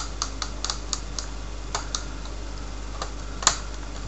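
Small screws being worked out of the back cover of an old laptop with a Phillips screwdriver: sparse light clicks and ticks, close and quiet, scattered irregularly over a low steady hum, with one sharper tap near the end.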